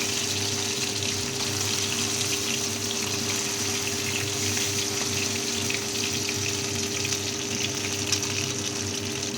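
Mutton fat fritters fry in oil over a low flame, giving a steady, loud, close sizzle that continues unbroken with no voices.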